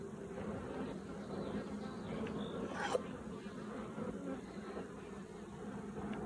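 Honey bees buzz faintly and continuously around an open beehive during an apiary inspection, a soft steady hum at moderate distance with a brief louder click near the middle.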